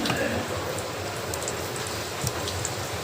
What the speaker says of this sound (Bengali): আসলে বৃষ্টি হচ্ছে